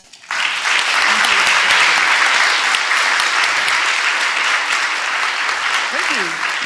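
Applause from an audience at a book talk on speeches and democracy, a dense, sustained clapping that starts abruptly and stays loud and even to the end, with brief voices faintly underneath.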